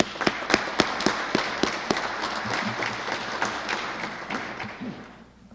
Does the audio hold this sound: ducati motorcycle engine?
no